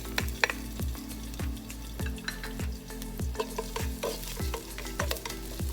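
Garlic sautés in cooking oil in a pot for Kapampangan chicken adobo, a quiet background sizzle broken by a regular rhythm of spatula knocks and scrapes against the pot, roughly twice a second.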